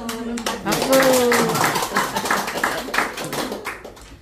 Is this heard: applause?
yes